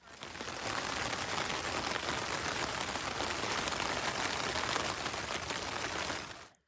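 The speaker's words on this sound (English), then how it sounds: "It's starting to rain." Steady rain pattering on a surface, a continuous even hiss of drops at moderate volume from start to finish.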